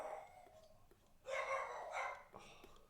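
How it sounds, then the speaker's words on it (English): A dog barks faintly in the distance: a short cluster of yaps followed by one more isolated bark, in an otherwise quiet setting. "The dog's barking."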